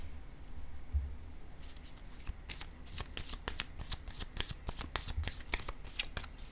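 Tarot cards being shuffled by hand: a steady run of crisp riffling flicks and soft paper slaps, close and moderately quiet, continuing throughout with no talk over it.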